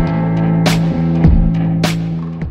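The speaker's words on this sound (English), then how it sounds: "Daisen 181 heavy-duty compound feed Lockstitch sewing machine." A Daisen DS 181 heavy-duty compound feed lockstitch sewing machine runs close by with a steady motor hum, and faint broad mechanical thumps sound about once a second.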